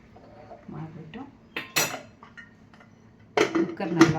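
A metal utensil clinks and knocks against a pressure cooker while sambar ingredients with chopped brinjal are stirred together; scattered close clatters and scrapes, with a couple of sharper knocks near the end.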